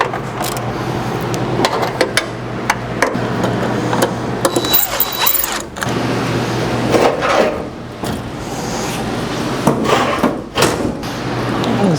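A door going back onto a washing machine that had caught fire, then being bolted down: loud close thumps, knocks and metallic clatter over a busy, noisy background.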